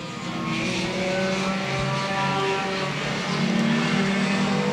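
Sport compact Thunderstock race cars at Evans Mills Raceway Park power out of a turn, loud sustained engine roar with climbing revs from several cars close together, no talking.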